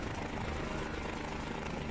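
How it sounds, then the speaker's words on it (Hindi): A helicopter landing on a snow-covered mountain gives off a steady, dense rotor and engine roar with a fast rhythmic chop, moderately close and continuous. "सबसे बड़ी चुनौती होती है बर्फ से ढके पर्वत पर हेलीकॉप्टर को उतारने की"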